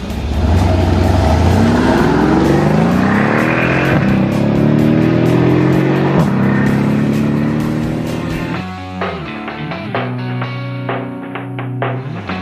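A 2013 Mercedes-Benz SL63 AMG Roadster launches hard from 0 to 60 mph, its loud engine climbing through rising gear sweeps with sharp upshifts, then easing off and rumbling more quietly near the end.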